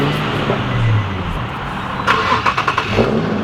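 An Infiniti G37 engine cranks over and catches with a suspected bad battery or ground, a steady low engine drone with a few sharp revving bursts later on, up close and without talk.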